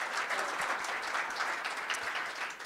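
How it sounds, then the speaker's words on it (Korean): A lecture audience at a training institute gives a round of applause, soft and somewhat distant, with even, continuous clapping from start to finish. "다시 한번 우리와 같은 박수 부탁드립니다."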